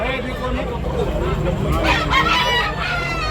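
Roosters crow repeatedly at a busy Sunday morning cockfighting rooster market in Tabunok, Talisay, Cebu, with overlapping calls near and far and clucking over a steady crowd murmur.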